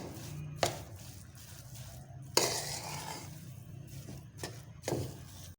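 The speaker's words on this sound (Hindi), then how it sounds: "खोए को हम अच्छे तरीके से करेंगे मिक्स" Khoya being stirred into carrot halwa in a pot, quiet soft mixing punctuated by several sharp spoon knocks against the vessel at irregular intervals, with no voices.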